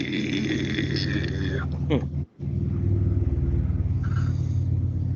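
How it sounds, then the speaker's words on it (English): Trucks drive by with a heavy, continuous rumble that fills the whole clip and dips briefly once, while a person talks over the passing traffic. "Oh, hear trucks go by."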